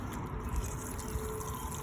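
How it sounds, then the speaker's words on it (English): Water pours onto soil over a freshly planted jack bean seed, a soft steady trickling and splashing rush, faint and close with no talking. "I'm gonna water it."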